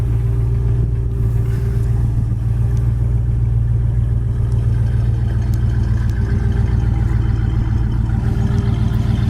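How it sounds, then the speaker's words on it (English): A 1964 Chevrolet Chevelle Malibu idles through its dual exhaust, a steady low rumble with a continuous throb, close and loud, running alone without talk for the whole stretch. "It's got nice dual exhaust. It comes out like it should."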